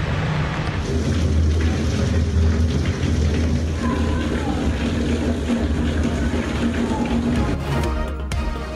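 Steady rain pours down across Islamabad with hail mixed in, a dense continuous hiss and patter with a low rumbling undertone, unbroken for several seconds before a few sharper knocks near the end.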